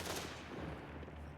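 Sustained machine gun fire in Company of Heroes, a dense, steady rattle of rapid shots over the full short stretch, fairly faint and distant-sounding, with no talk over it.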